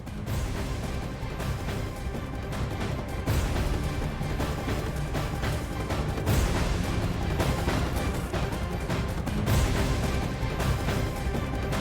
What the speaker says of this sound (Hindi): आतिशबाजी करते हुए नजर आ रहे हैं